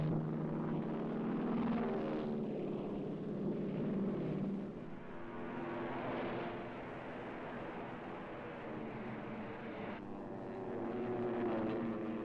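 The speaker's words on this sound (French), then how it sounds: "Les avions du porte-avions Kaga s'en vont attaquer l'île de Midway." Aircraft launched from the Japanese carrier Kaga fly toward Midway island, heard as a steady, loud, droning propeller-engine roar that swells and eases slightly over the whole stretch.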